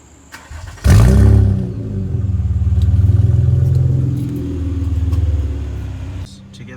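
Honda Accord V6 with a straight pipe exhaust, warm, firing up with a sharp crank and bark, then a loud, deep, rumbling idle that rises and dips in waves before cutting off.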